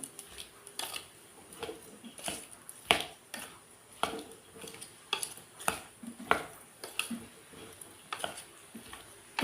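Ground spice powder and salt for mango pickle are stirred in a bowl with a spoon, giving repeated scraping and clinking strokes in an uneven rhythm, close and moderately loud, with no talking.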